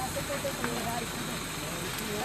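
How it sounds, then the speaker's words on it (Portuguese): An old truck burns in a fire at a recyclables yard, heard as a steady close roar and crackling hiss with faint rumbling underneath. "Caminhão antigo aí pegando fogo."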